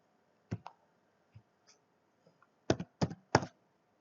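Computer mouse buttons click close by in a quiet room: one sharp click, a few faint taps, then a quick run of three crisp double clicks.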